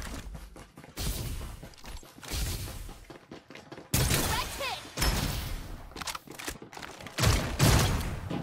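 Shotgun gunfire in a video game, loud repeated blasts in bursts across the span, with a voice shouting in between.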